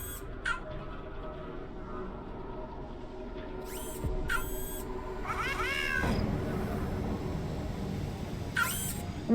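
A cat in the game Nancy Drew: Shadow at Water's Edge gives several short, rising meows spread over a few seconds, fairly close over a low background hum, with no speech.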